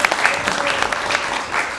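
Audience at a healthcare advocacy annual conference applauding during speaker introductions, a steady dense wash of many hands clapping at moderate level throughout.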